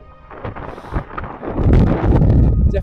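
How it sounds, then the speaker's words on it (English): Gusty wind on snow-covered Kinder Scout in winter buffets the microphone in low, rumbling bursts that grow stronger toward the end. "definitely windy"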